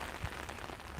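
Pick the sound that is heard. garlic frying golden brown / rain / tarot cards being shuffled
rain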